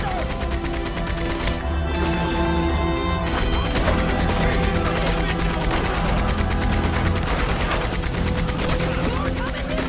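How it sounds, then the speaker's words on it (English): A Gatling gun firing nonstop in Red Dead Redemption 2, a loud dense fusillade of rapid shots with crashing impacts layered over game music, while a voice shouts over the gunfire. "Get on that Gatling gun, Arthur!"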